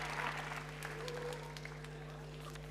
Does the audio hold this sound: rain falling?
no